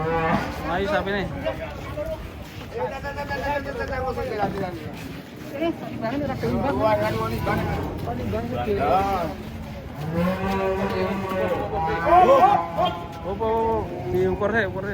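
Large cattle being unloaded from a truck, several loud, drawn-out moos and lowing calls repeating through the scene, mixed with people talking and shouting nearby.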